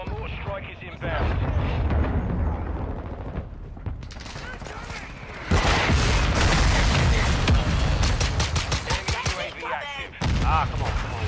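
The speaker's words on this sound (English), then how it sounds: "Our mortar strike is inbound." Mortar strike explosions rumble and crack during a Call of Duty MW2 multiplayer match, loud dense bursts with gunfire mixed in, continuing through most of the stretch as game voices sound over it.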